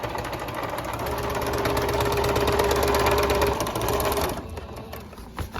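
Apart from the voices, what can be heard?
sewing machine stitching a feed bag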